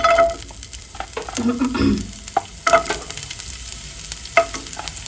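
Onions frying in a pan over a low flame while making pizza, a close steady sizzle with clattering stirs and scrapes of a utensil against the pan, including a brief clink near the middle.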